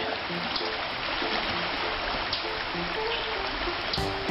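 Yellow Breeches Creek flowing along a stretch used by canoeists, a steady close wash of moving water with small splashes and trickles throughout, fairly loud and unbroken.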